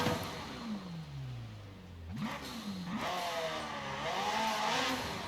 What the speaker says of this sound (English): It sounds a bit like a Ferrari V8,